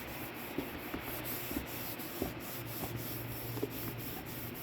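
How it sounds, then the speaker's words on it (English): A motorcycle pipe is scrubbed by hand with cleaning paste and a bamboo cloth, a soft, continuous rubbing at close range with faint repeated strokes and no talking. "I am just going to add it to this to scrub it and make it shine"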